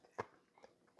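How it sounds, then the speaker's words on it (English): A single sharp crunch of a tortilla chip bitten while eating chili, close and brief, followed by faint softer chewing sounds. "I know y'all hear my crunching. That's from those chips."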